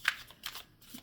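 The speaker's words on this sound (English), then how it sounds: "Let's do one more shuffle." A tarot card deck is shuffled in one quick, soft riffle of papery flutters, close and brief, with no talking.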